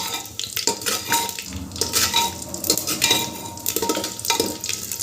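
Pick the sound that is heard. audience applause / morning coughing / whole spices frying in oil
whole spices frying in oil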